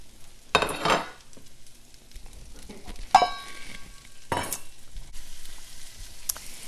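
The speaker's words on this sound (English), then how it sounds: "add your beans, red and yellow peppers, and continue to saute until they're all coated in butter" Beans and red and yellow peppers sauteing in butter in a pan, with sharp metallic utensil clinks and scrapes against the pan over a soft sizzle, close by and without talk.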